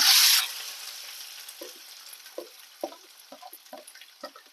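Two onions hit hot oil in a pan for a mango, cashew and garlic curry, a loud sizzle bursting at first then settling into steady frying with repeated scraping stir strokes, no voice.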